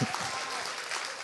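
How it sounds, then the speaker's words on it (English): A studio audience claps loudly and continuously for a panel guest just introduced at a university debate. The burst of applause is brief and dense. "Applaud him!"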